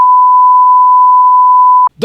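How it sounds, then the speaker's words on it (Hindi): A computer CPU gives an error beep at startup: one loud, steady electronic tone holds for nearly two seconds, then cuts off abruptly as another sound begins. "सीपीयू के अंदर से आवाज आ रही है, बीप बीप बीप बीप।"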